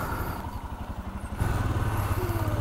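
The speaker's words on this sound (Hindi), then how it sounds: "पता है कि मैं बाइक मोड़ रहा हूँ।" A motorcycle is ridden and turned in traffic, its engine chugging steadily with a rhythmic pulsing beat that grows louder and rougher halfway through as it revs up, close by with street noise around.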